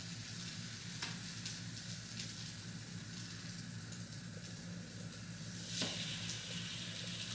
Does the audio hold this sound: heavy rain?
no